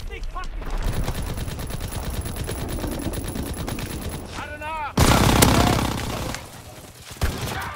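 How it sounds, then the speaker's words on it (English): Shotgun gunfire in Call of Duty, a steady stream of rapid shots through most of the stretch, then a louder, denser burst near the end, with a voice talking underneath. "I hate those shotguns with that fire dispenser"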